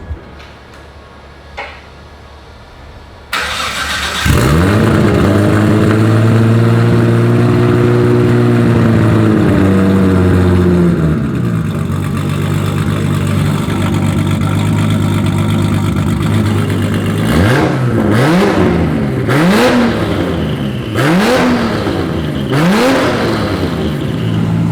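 A BMW E92 with an axle dump exhaust cranks over and fires up, then settles into a loud idle before a run of sharp, repeated revs that rise and fall in quick succession near the microphone.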